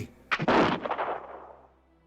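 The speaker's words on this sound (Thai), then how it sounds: "เสียงปืนดังกังวานและกึกก้องขับไล่ความเงียบ" A single loud rifle shot cracks in a jungle, then rolls off into a long, fading echo that rumbles away to silence.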